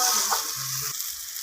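Spice paste for a chicken curry fries and sizzles in oil while being stirred, a steady close hiss with brief scraping, alone without voices.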